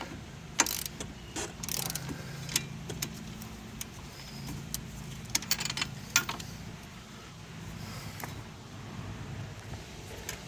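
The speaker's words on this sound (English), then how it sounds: "we're going to torque these down to 90 foot-pounds" A ratcheting torque wrench tightens knuckle bolts to 90 foot-pounds during an engine and transmission replacement on a 2004 Suzuki Forenza with a 2.0 L engine, with soft, intermittent clicking and metallic clinks and a low mechanical hum in the background.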